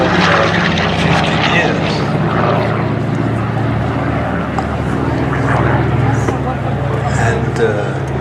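A propeller aircraft drones loud and steady at the Flying Legends airshow at Duxford, a constant engine roar with an announcer's voice talking over it throughout.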